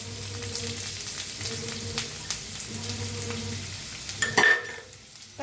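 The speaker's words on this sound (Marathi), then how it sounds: "कांदा हलवून भाजून घेऊया" Onion fries in hot oil in a kadai while being stirred, part of making a chili-and-onion thecha. It gives a continuous sizzle with a low hum, and one brief scrape or clatter comes near the end.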